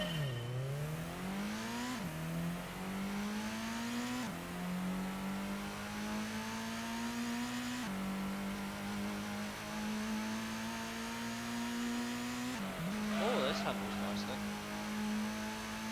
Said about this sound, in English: Ah, yes, the generic GT1 engine sound.